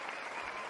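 Short burst of applause from a small group, faint and brief, a soft patter of clapping lasting under a second.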